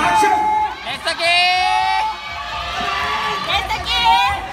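A crowd at the 2018 DDDE dance competition cheers and shouts loudly as the team Destoxic is introduced, with sustained whoops and yells carrying over steady crowd noise.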